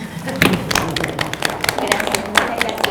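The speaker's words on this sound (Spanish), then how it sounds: "un aplauso flojito pero intenso para Bárbara" An audience at a Spanish-language talk claps softly but steadily, a thin patter of hands with scattered sharper claps, while voices murmur underneath.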